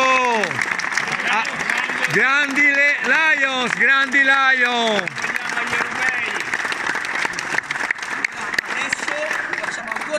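Steady applause from a crowd at a Subbuteo tournament fills the whole stretch, with voices chanting and calling out loudly over the clapping.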